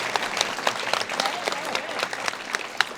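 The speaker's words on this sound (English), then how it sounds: "Round of applause for Beth." Round of applause from a library event audience, steady dense clapping filling the whole stretch, fairly close and lively with a few sharper claps standing out.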